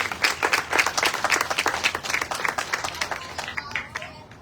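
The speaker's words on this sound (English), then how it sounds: "Please, another big round of applause for Dr. Gilchrist." An audience at a community event in Miami claps in sustained applause for about four seconds, dense rapid clapping that tapers off toward the end.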